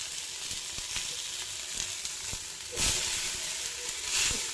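Chopped onion, tomato and capsicum hit hot oil for an egg omelette, giving a moderate, steady sizzle with scattered taps of a utensil and two brief surges of louder hissing; no speech.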